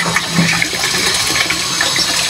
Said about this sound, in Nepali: यहाँ चाहिँ हामीले पानी भर्न छौँ